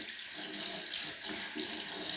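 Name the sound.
tap water rinsing a Dyson vacuum filter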